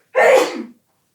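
One loud, close human sneeze, a single short burst with nothing else around it.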